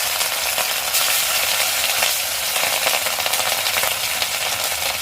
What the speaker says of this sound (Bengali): তেলটা আবার গরম হয়ে গেছে, আর মাছগুলো আমি এরকম খুন্তি করেই তুলে দিচ্ছি